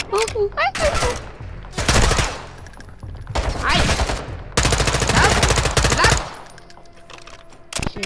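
Call of Duty MW2 gunfire in loud, rapid automatic bursts, several long rattling volleys separated by short gaps, with voices heard between and under the shooting.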